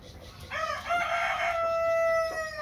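A Rhode Island rooster gives one loud, close crow that rises and holds a long drawn-out note, with nobody talking.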